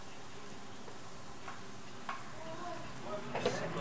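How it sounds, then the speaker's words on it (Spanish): Onion frying in olive oil, a soft, fairly quiet steady sizzle with a few utensil taps and scrapes that grow busier toward the end, close by with no clear talking. "Teniendo aquí ya el aceite de olivo, vamos a poner la cebolla"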